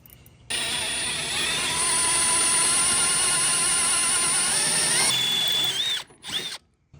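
A high-pitched drill whines steadily for several seconds, loud and close, boring out holes in metal for rivet nuts, then winds down and stops with a few short bursts.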